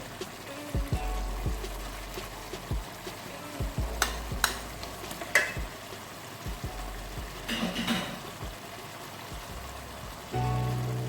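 Butter dropped into a sizzling chicken karahi, a steady low frying hiss broken by occasional clinks and scrapes from the pan.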